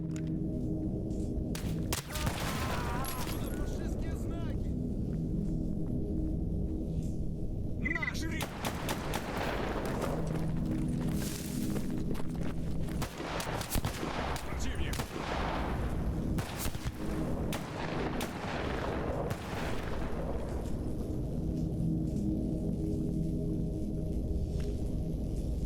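Gunfire in S.T.A.L.K.E.R. rings out almost continuously, with sharp close shots, rattling bursts and booming reports over a dense, steady background rumble.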